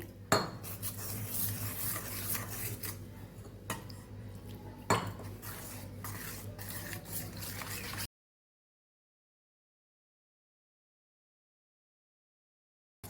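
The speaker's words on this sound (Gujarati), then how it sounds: "થોડું થોડું પાણી ઉમેરીને સ્લરી તૈયાર કરશું" Spoon clinking and scraping in a bowl as cornflour and maida are stirred with water into a thin slurry, close and fairly quiet, with a few sharper knocks against the bowl before the sound cuts to silence.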